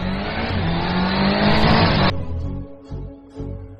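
A motorbike or car engine revs hard at close range for about two seconds, then cuts off abruptly as the vehicle pulls away, leaving fainter engine and road noise.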